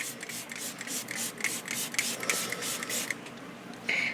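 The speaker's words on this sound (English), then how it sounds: "Don't talk while you're spraying it." Makeup setting spray misted onto a face, heard as soft hissing, rubbing bursts repeating close by, with a stronger spray puff near the end.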